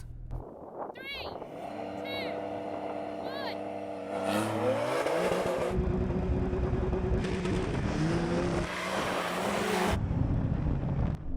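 A Porsche races through mud in a competition, its engine revving and rising in pitch, then surging into a loud, sustained roar mixed with wind buffeting and splashing.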